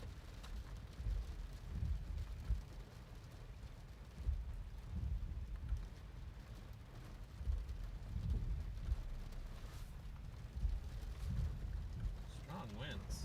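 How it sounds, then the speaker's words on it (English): Low rumbling thunder rolls through an Arizona monsoon storm, continuous and fairly distant, mixed with wind and rain noise and occasional talk. "So you can hear some thunder."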